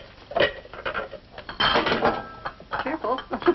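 Pyrex glass dishes clink and knock as they are handled in a home kitchen, with irregular clattering bursts close by, mixed in with people talking.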